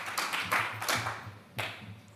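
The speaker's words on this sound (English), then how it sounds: "if you'd like to applaud our panel" A small panel audience at a live conference gives a few scattered, fairly faint handclaps that fade out over a couple of seconds, with no voices over them.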